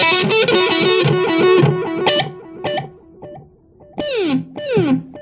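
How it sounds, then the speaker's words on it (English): An electric guitar runs through the standard echo setting of a multi-effects pedal with loop recording, with distorted played phrases followed by clear, decaying repeats that trail off between loud bursts. "And standard echo."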